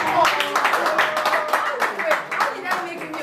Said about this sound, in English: A round of applause for us.